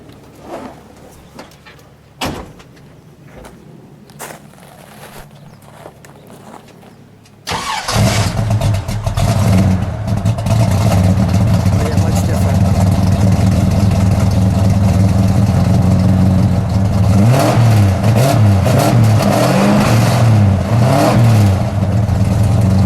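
An upgraded AMC Javelin SC/Rambler muscle car engine fires up after a few quiet seconds of small clicks, then runs loud and steady, rumbling and revving with rising surges.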